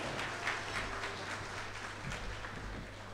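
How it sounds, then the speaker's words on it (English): A round of applause from staff at a Massy Stores Saint Lucia appreciation awards evening, moderate clapping in a room with a low hum underneath, holding steady before tapering slightly. "Let's give them a round of applause."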